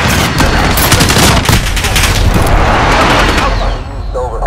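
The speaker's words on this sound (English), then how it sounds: "Copy. Strike inbound." Airstrike explosions in Call of Duty: Modern Warfare, a loud continuous barrage of booming blasts and rumbling impacts with dense crackling debris, sustained throughout and tapering slightly at the end, with a voice briefly heard amid the din.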